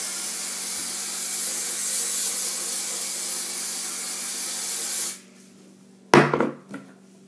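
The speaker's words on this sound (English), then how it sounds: "Take your Mega Volume hairspray" Mega Volume hairspray hisses in one long, steady, close spray on a girl's brushed-up hair for about five seconds, then cuts off, followed by a short clatter of handling.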